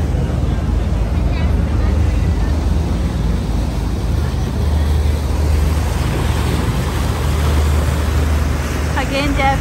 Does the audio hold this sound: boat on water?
yes